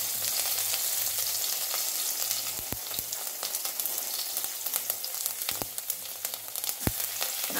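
Cumin, green chillies, fennel and kasuri methi sizzling in hot oil for an aloo sabzi served with khasta kachori; a steady, fairly quiet sizzle with occasional sharp ticks and spoon clinks, close by.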